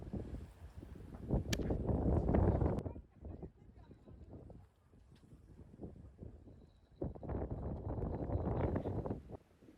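Strong wind gusts at a breakwater during a fishing trip buffet the microphone in loud, rumbling surges that rise and fall over several seconds, with quieter lulls between.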